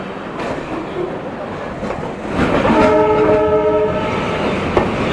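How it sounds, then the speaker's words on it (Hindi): Kerala Express pulling out of Jhansi Junction, with rumbling rail noise building and a long multi-tone train horn sounding steadily for about two seconds near the end, loud and close. "अपनी ट्रेन जो है झांसी जंक्शन से प्रस्थान कर रही है"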